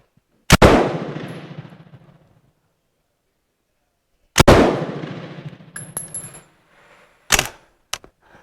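A Bren MK2 machine gun fires two single, very loud, close shots with long ringing echoes, separated by several seconds, followed by metallic clinks and one more sharp report.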